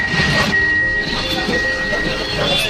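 A local train pulling into Kalyani station, its steady rumble and rail noise continuing loud and close throughout, with a thin high whine running over it and speech mixed in.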